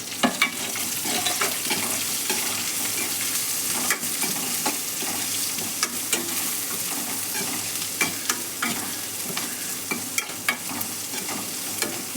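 Small onions sautéing in a pan for a garlic curry, a loud continuous sizzle and crackle with frequent scraping stirs of a spoon across the pan, close up with no voices.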